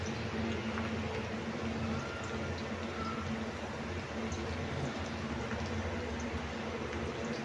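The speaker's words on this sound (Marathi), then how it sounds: "तर बनाना मी फ्राय करत आहे." Raw banana pieces frying in hot oil in a home kitchen, a steady, continuous sizzle and crackle held at an even level throughout, close and moderately quiet with no talking.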